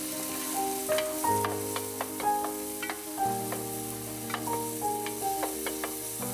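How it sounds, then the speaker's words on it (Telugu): Ginger garlic paste frying and sizzling in hot oil for a mutton biryani, with steady sizzle and repeated stirring scrapes in the pan, close and continuous with no talk. "అల్లం వెల్లుల్లి పేస్ట్ నూనెలో కాస్త బాగా ఫ్రై అయ్యాక"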